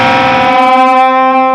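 A single distorted electric guitar note bends upward in pitch and sustains, loud and close, with a buzzing, saturated tone.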